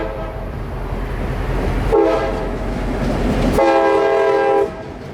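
A YN2-painted locomotive runs short hood forward along a Florida railroad, rumbling loudly close by with clattering wheels, and two long horn blasts sound partway through.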